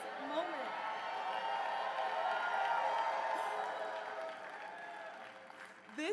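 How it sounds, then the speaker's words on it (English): A large crowd at a political rally in Atlanta, Georgia applauds and cheers steadily, the clapping swelling in the middle and tapering off, with scattered shouts mixed in. "y'all can clap for that"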